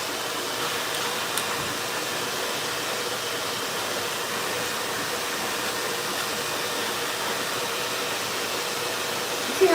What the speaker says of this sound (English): so I'm going to just blow dry it a little bit